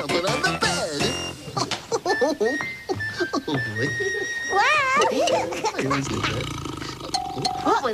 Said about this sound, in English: What was that? It sounded like a tiger.